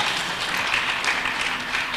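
An audience at a teachers' certificate award ceremony applauds a woman, a short burst of steady, moderately loud clapping from many people.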